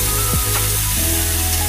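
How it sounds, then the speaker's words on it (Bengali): Banana flower sautéing in hot oil in a pan, a steady loud sizzle with a few quick stirring scrapes, close up and with no talk. "মোচাটা কষানো হচ্ছে"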